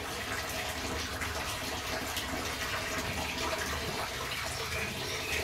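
Clean water streams and splashes steadily from washed clothes being wrung out by hand, a dense, continuous watery rush lasting the whole stretch without any talking.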